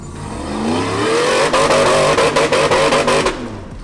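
An off-road Jeep built as an Ultra 4 style buggy roars loud and close at full throttle, its engine climbing steadily before breaking into a rapid stuttering burst of revs near the end.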